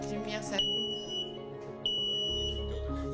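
A smoke detector gives two sharp, piercing high beeps while being paired with a home automation box indoors, the tones clear and close, with a person talking around them.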